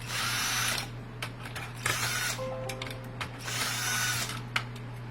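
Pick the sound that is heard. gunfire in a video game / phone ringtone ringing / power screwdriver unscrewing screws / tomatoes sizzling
power screwdriver unscrewing screws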